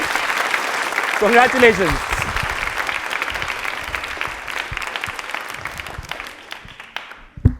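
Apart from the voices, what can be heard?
audience applause at a Hindi TV quiz show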